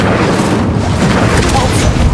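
The Incendio fire spell is cast in the Hogwarts Legacy video game: a loud, roaring, booming blast that fills the whole moment with dense, unbroken rumble.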